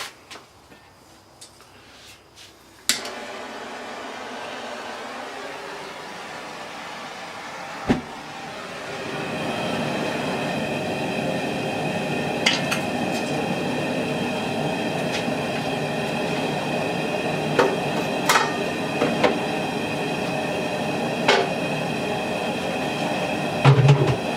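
A gas burner lit under a homebrew kettle for the boil on a summer brew day: a sharp click, then a steady broadband roar that grows stronger after several seconds and carries on, with occasional small knocks.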